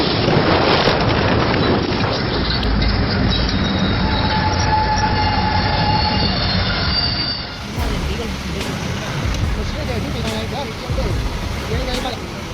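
A train rolls past on a railway line, its wheels squealing in long sustained tones over a loud continuous rumble, easing slightly in the final seconds as rattling continues.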